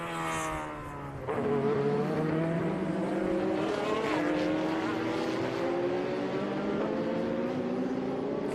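Race cars at the Austin SpeedTour track roar past close by, engines rising into a loud sustained howl with shifting pitch as they come straight down the hill, the noise holding strong to the end.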